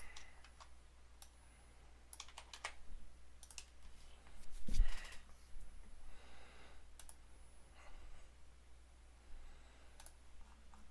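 Sparse, faint keystrokes on a computer keyboard while working in Unity: scattered light clicks, one slightly louder tap, over a low steady hum.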